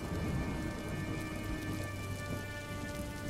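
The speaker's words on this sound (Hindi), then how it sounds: "बरसात की वो रात केवल आसमान में ही नहीं बल्कि गौरी अम्मा के दिल में भी तूफान लेकर आई थी" Steady heavy rain pours on a night scene while thunder rumbles low underneath, a dense continuous wash with no pauses and no voices.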